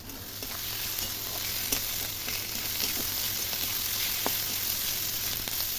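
Chopped capsicum and green chillies frying with prawns and ground spice paste in hot oil, a steady dense sizzle with occasional light stirring clicks, close and unbroken, no talking.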